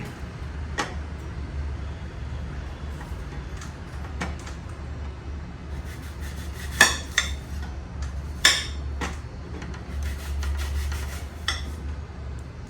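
A kitchen knife cuts through an apple in a few sharp, isolated clicks and taps against a steady low hum, with no talking.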